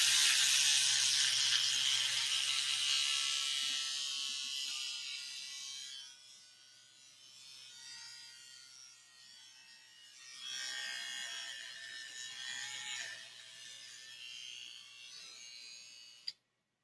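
A battery-powered electric shaver whirs close up, its buzzing loud at first and then sagging and faltering as the charge runs out, surging briefly again before cutting off at the end.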